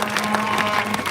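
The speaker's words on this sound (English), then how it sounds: "Let's give another round of applause for Frank Chapman." Crowd applause at an outdoor DNC protest, a dense, steady patter of many hands clapping at once, loud and close, with a voice faintly audible beneath it.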